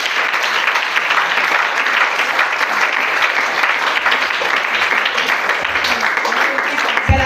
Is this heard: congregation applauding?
yes